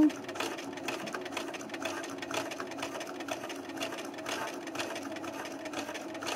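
A sewing machine stitches a patch on its slowest setting, making a steady continuous mechanical whir with a fast, even needle rhythm, close and alone with no talking.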